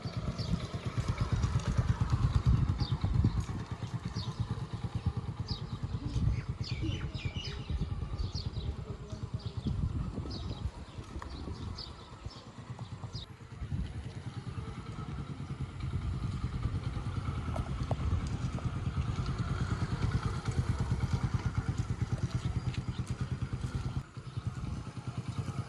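A motorcycle ridden by a learner during practice on open ground hums steadily for the whole stretch, its engine note rising and easing with uneven throttle and a little clatter, fairly distant and without talk.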